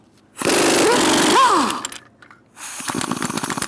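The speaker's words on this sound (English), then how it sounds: "Using a 19mm socket, we'll take off our lug nuts." An impact wrench with a 19mm socket removes lug nuts from a Ford Taurus front wheel, two loud close bursts of buzzing hammering, the first with a rising whine, separated by a short pause.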